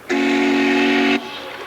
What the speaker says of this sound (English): the Trust has restored a unique steam-powered yacht